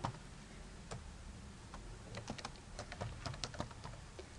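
Fingers type a blog web address on a computer keyboard, producing sharp, irregular clicks over steady room hiss, with keystrokes bunching more densely toward the end.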